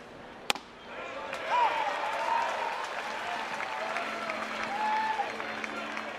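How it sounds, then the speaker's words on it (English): A college baseball crowd at a Texas A&M versus Florida game applauds a pitcher, a sustained wash of clapping and cheering after a sharp crack, with a broadcast commentator's voice running over it. "gets a big hand from the crowd"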